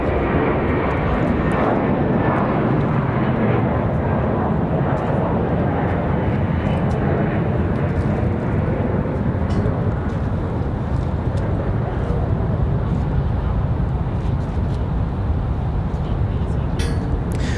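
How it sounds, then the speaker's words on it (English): A heavy jet airliner departs RDU for San Juan, Puerto Rico, with a loud, dense engine roar that continues the whole time, while a voice talks over it. "Heavy flight here for San Juan, Puerto Rico."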